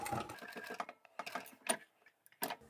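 A sewing machine runs in several short bursts while stitching down one side of a small tab on a zippered phone pouch, the quick mechanical whirring starting and stopping with brief quiet gaps between runs.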